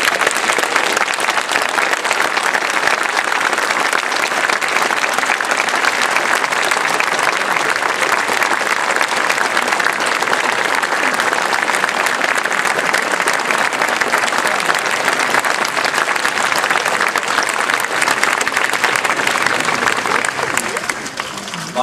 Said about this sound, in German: Begrüßen Sie herzlich den Regisseur und Ehrenbürger der Stadt Simmern, Herrn Edgar Reitz.